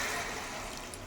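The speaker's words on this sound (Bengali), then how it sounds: "এবার এটার মধ্যে একটু জল দিয়ে দিলাম" Water poured into a pan of fried cauliflower and potato, a brief steady rushing splash with hiss, fairly faint and with no voices.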